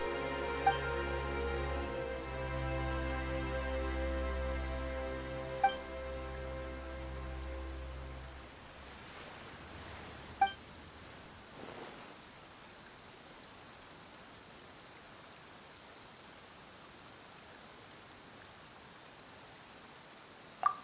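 Steady rain in the video game Genshin Impact hisses as a continuous, even wash of noise, with a low droning music tone underneath at first that fades out, leaving the rain alone apart from a few faint clicks.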